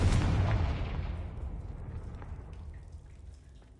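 A Confringo spell explodes in the video game Hogwarts Legacy with a loud, close blast that rolls out into a long crackling rumble and fades over a few seconds, without any talking.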